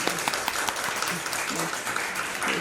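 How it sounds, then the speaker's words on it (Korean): A church congregation at a Sunday morning service claps for newlyweds, a dense, continuous round of applause with scattered sharper claps standing out, some voices faintly mixed in. "우리 박수 한번 응원해 주시기 바랍니다"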